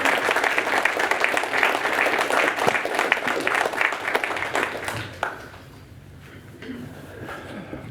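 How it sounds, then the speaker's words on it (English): A city council meeting audience gives a round of applause, full and steady clapping that tapers off after about five seconds into a quiet room with a few lingering claps and faint shuffling. "Another round of applause."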